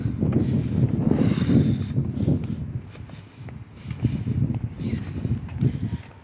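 Cold wind buffeting the microphone during a walk outdoors around the Bravo Murillo area, a rumbling, gusting roar that swells and dips continuously, with faint footsteps and rustling mixed in.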